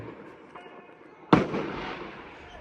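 A New Year firecracker goes off with a single sharp, loud bang partway through, then fades into a lingering crackle and rumble over a steady background hum.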